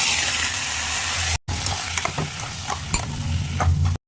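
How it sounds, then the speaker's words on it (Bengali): Cumin, bay leaf and spices sizzle loudly in hot oil as a tempering for a Bengali pabda fish curry with eggplant. A brief cut breaks the hiss before it resumes with stirring clicks and scrapes, and no one talks. "এবার ফোড়নে দেবো জিরে, তেজপাতা, মশলাগুলো দিয়ে দেবো একসাথে।"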